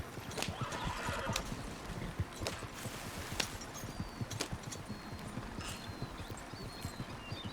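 A horse neighs and whinnies while its hooves clip-clop steadily on a trail down a small hill toward a camp, close and fairly loud, with rustling movement throughout.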